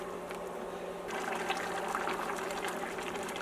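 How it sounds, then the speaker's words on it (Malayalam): Water from a rinsed grinder jar is poured into a pot of green papaya curry with ground coconut, a steady, fairly close splashing pour that thickens after the first second and runs on without talk. "ഈ ജാറ് കഴുകിയൊരു ഇച്ചിരി വെള്ളം കൂടി ഒഴിക്കുന്നുണ്ട് കേട്ടോ"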